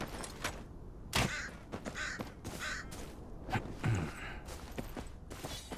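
A crow caws several times in the Game of Thrones Kingsroad video game, harsh separate calls spaced across the moment, fairly close, with a few soft footstep-like taps between them.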